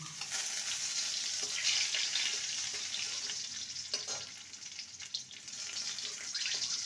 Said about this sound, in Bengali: রসুনটাকে ভালো করে ভেজে নিয়েছি